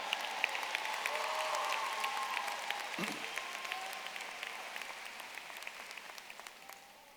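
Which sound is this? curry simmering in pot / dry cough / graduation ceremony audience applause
graduation ceremony audience applause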